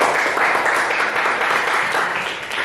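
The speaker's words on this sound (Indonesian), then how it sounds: "Kita beri tepuk tangan untuk teman-teman." A classroom of students applauds presenters at a school lesson: steady, dense clapping from many hands, fairly close and loud, holding for the whole stretch with no talk over it.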